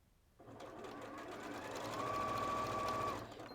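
A sewing machine stitches over a fabric seam in a steady, close whirring run. A thin whine rises near the end before the motor eases off.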